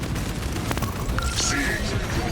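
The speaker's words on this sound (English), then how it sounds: "that is the auto bolt rifle in Space Marine 2" Rapid automatic gunfire from an auto bolt rifle in the Warhammer 40k game Space Marine 2, a dense, continuous rattle of shots mixed with booming impacts and a voice talking over the action.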